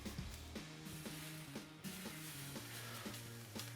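A thick steak sizzling on a hot gas or charcoal grill makes a crackling hiss, and regular soft knocks from handling the grill sound throughout.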